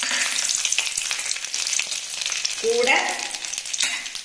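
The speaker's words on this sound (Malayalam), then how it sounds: "നന്നായിട്ട് കുറച്ച് വെച്ചിട്ട് ഒന്ന് വഴറ്റിയെടുത്താൽ മതി" Shallots, onion, tomato and garlic sautéing in a pan, a steady close sizzle with stirring scrapes and a brief clatter of a spoon partway through; one short spoken word.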